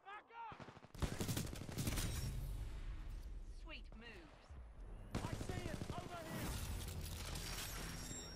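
Weapon fire from the shooter game Titanfall 2 comes in dense, rapid bursts with brief pauses, loud and close, alongside quick whooshing effects and a sharp hit at the very end.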